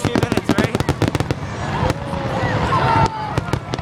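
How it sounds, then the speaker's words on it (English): Fourth of July fireworks burst in a rapid string of loud, sharp cracks and pops, with crackling and whistling between them as voices talk over the barrage. "Firework with happy ending!"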